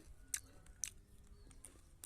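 Crisp crunching bites of flaxseed chikki, about four close chewing crunches spaced unevenly over quiet room tone, with no talking.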